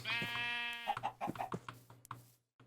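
A sheep bleats in a survival video game, one long wavering call followed by a string of short, closer bleats, clear and alone.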